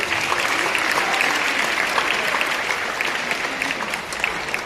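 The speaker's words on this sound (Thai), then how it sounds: "ปรบมือให้มหาวิทยาลัยมหิดลนะครับ" A seated audience at a Mahidol University lecture breaks into steady, dense applause that carries on evenly for several seconds without pause.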